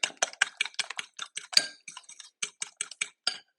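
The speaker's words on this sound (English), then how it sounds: "give another little quick stir" Quick stir of cheesy eggs with a utensil against a bowl, a rapid run of light clicking and scraping taps, close and fairly quiet, with no talking.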